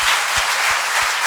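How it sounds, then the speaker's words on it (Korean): A church congregation claps along during Sunday worship, a loud, dense wash of hands with a steady rhythmic beat pulsing underneath. "우리 박수 치면서 하나님께 찬송과 영광을 돌립시다."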